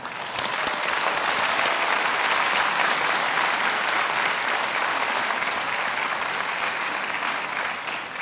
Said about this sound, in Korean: 여기에서 큰 박수로 경의를 표해 주시기를 바랍니다